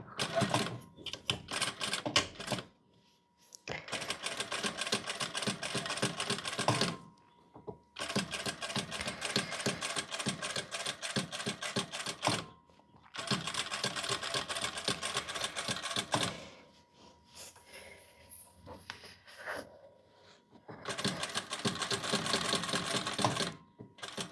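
Sewing machine running a fine edge seam along a Chanel-style jacket opening, bursts of rapid close stitching separated by short pauses.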